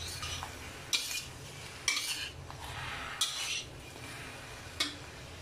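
Mushrooms are stir-fried in a pan for vegan bún riêu. A utensil clanks against the pan about once a second, between stretches of scraping and stirring over a faint, low sizzle.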